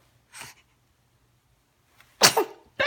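A single sharp, close human sneeze bursts out during play with pet birds in a quiet room, preceded by a faint breathy sound.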